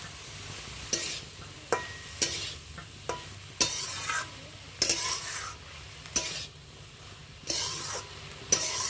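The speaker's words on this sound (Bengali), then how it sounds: "তো এইটাকে ভালো করে মিশিয়ে নেব।" Spoon stirring a pan mixture seasoned with black pepper powder and black salt, a series of distinct close scrapes and clinks over a low sizzle.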